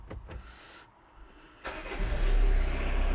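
Citroen Dispatch van engine starting after a clutch install: a few faint clicks and a short quiet pause, then the engine cranks and catches into a loud, rumbling idle, up close.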